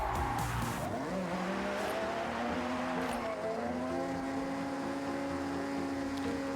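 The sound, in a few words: video game car engine revving high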